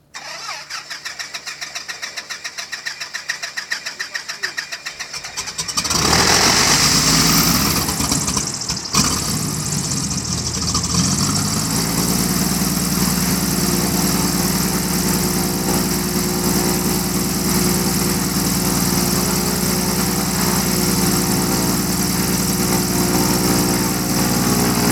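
Small aircraft piston engine starting at a Kamień Śląski airfield, quiet at first, then catching at about six seconds into a loud, steady close-up idle drone that holds to the end with no talk.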